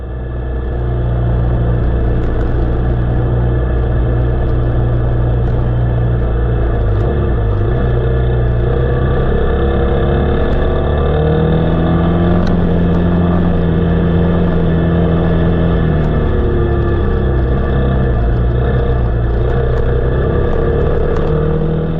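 Aprilia Tuareg 660 Rally motorcycle engine running steadily while riding the Castle Hot Springs Loop in Arizona, a loud close drone with gentle rises and falls in revs and wind rush over about twenty seconds.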